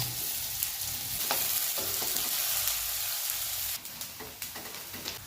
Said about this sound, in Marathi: तेल गरम झाल्यावर सर्वात आधी आपण लसूण टाकलेलं आहे लसूण नंतर लगेच कांदा टाकलेला आहे